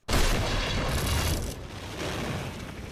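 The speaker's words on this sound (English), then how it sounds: "It's kicked off with an explosion." A loud movie explosion from the film Valkyrie hits with a sudden deep blast, then rolls on as a dense, roaring rumble that eases slightly but stays strong.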